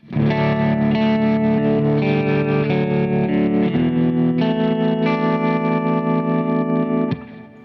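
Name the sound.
lap steel guitar playing minor chords in open D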